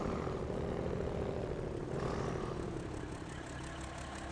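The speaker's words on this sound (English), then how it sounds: "This one has probably some of the better sound for a truck engine." A heavy truck engine in the video game SnowRunner drones steadily at a low, throaty pitch, holding a constant level for a few seconds with a slight change midway and no voices.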